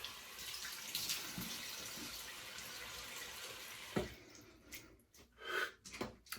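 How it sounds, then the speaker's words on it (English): Cold water runs steadily from a sink tap after a wet shave, then breaks into close, uneven splashes as it is scooped onto the face; no talk. "Cold water splash, close the pores."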